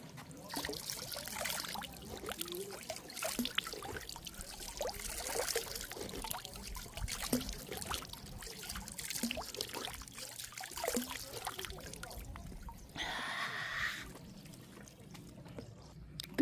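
Water poured out for a drink outdoors on a sunny day, a steady trickling and gurgling pour running on at close range, loudest toward the end.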